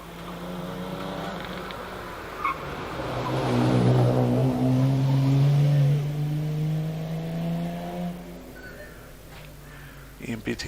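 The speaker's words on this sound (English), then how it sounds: "Ian Beattie continuing to make his way up the hill in the XK120, around semicircle, up to the line then." A Jaguar XK120 racing car climbs the Prescott hill climb course, its engine note swelling as it approaches, then easing away and fading, under a commentator's voice.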